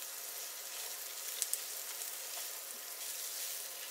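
Onions and cashews fry in a pan over a high flame, giving a steady close sizzle with a couple of faint clicks, and no talk.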